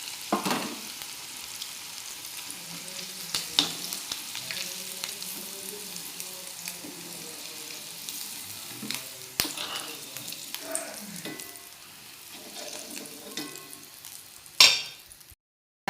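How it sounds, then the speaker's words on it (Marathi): Bitter gourd pieces fry in hot oil for a tikka masala, a steady sizzle with scattered crackles and occasional utensil clinks, a louder clatter near the end, and no talking. "हे बघा असे मस्त फ्राय होत आहेत."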